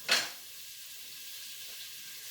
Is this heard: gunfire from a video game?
no